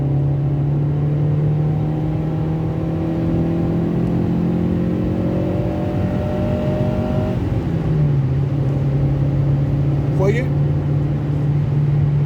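A 1.3-litre 16-valve Mitsubishi Space Star with 257,000 km accelerates, its engine droning steadily and rising in pitch before a gear change. Someone talks over the engine note.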